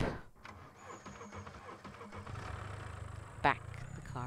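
A car in the Scum survival video game starts its engine and reverses, a steady low engine rumble running throughout with a brief sharper burst partway, while someone talks over it.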